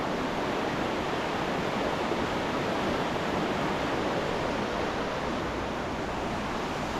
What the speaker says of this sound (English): You can see the river, the water is kind of milky looking